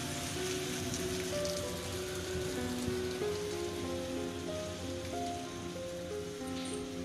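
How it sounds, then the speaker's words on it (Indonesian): Steady rain falling on a surface, a continuous dense patter with scattered drips, alone and fairly close throughout. "Hujan mulai mereda."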